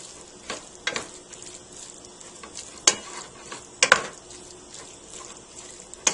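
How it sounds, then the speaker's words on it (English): Ground beef for lasagna browns in a pan with a soft, steady sizzle, broken by sharp scraping stirs of a utensil close by, with no talking. "let's check the ground beef before we move on. All right, this is coming along. It's browning, which is what we want."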